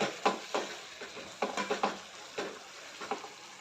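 Drumstick (shevga) masala cooking in a pan, with a soft, steady sizzle under repeated close scrapes and taps of a spatula stirring in an uneven rhythm, no voices.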